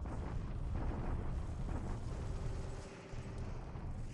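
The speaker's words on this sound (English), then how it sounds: "now he's bombarding us" Enemy bombardment in War in the Pacific, a dense, continuous roar of blasts and rumbling booms, loud and sustained, dipping briefly before resuming.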